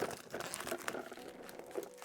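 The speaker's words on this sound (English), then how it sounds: "So I'm just gonna carefully peel this plastic off." Plastic wrap crinkling and crackling steadily as it is peeled off an acrylic marker box, a close, continuous rustle with small sharper crackles and no talk.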